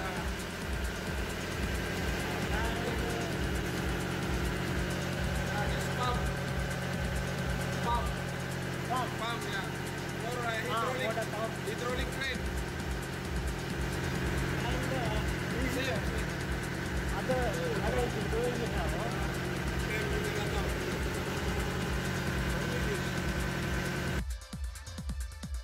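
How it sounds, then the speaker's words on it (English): A generator engine runs on a boat in the Maldives with a steady mechanical hum and low regular throbbing, heard close up while people talk over it throughout. "Generator."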